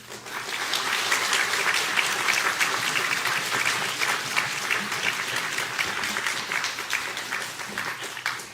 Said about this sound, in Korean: 우리 박수와 함께 땡땡까지 합쳐서 다 같이 시작.